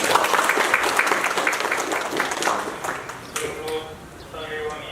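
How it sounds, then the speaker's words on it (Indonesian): An audience at a Balinese Hindu temple festival, the Pujawali at Pura Vira Canti Dharma in Sentul, bursts into dense applause for a few seconds, then the clapping thins out and a voice begins speaking. "Kita tepuk tangan semuanya."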